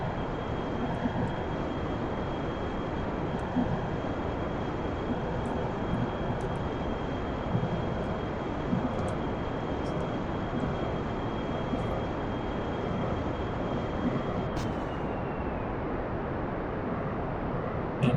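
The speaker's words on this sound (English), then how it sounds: "And we have kick out on the jet engines due to lack of oxygen." Jet engines of a spacecraft roar during ascent in a space video game, a dense, constant rumble that holds steady for the whole stretch with no voices.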